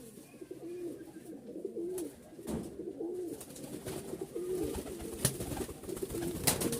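Hand-flying tumbler pigeons cooing in a cramped loft, with soft repeated low coos rising and falling over faint rustling and a few sharp clicks, fairly quiet and close.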